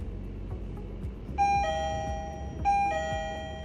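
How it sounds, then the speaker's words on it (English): Electronic doorbell chime from an Onlense K38 smart lock plays two ding-dong tone sequences, clear and close, over faint background hiss. "This lock also can function with doorbell."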